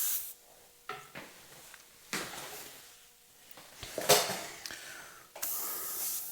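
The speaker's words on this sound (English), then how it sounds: "Test the spray." Several short bursts of hissing airbrush spray, black and grey paint on a leather saddlebag, with quiet pauses and faint handling noises in between.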